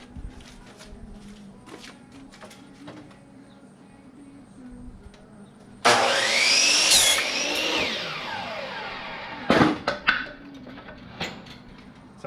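A miter saw cuts through a pallet wood board in a workshop, one loud whining cut lasting a few seconds after quieter handling noises, followed by a couple of sharp knocks as the piece is set down.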